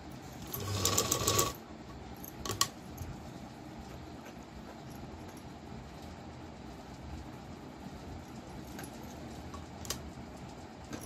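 A sewing machine stitches a blouse neckline in a quick rapid whir for about a second, then falls mostly quiet apart from a couple of short clicks and faint ticks.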